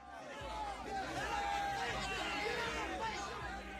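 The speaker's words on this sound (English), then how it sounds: "The crowd bellows in support of the old man." A crowd in The Life and Suffering of Sir Brante roars and bellows in a dense, sustained babble of many voices, with low thumping beneath.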